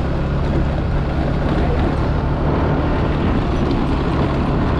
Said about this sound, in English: Cars and scooters go across the shortcut.